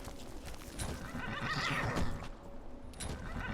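A horse in Skyrim whinnies loudly in one rising, drawn-out neigh, with hoof clops and game ambience around it and no talking.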